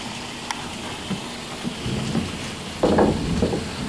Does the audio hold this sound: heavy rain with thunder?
yes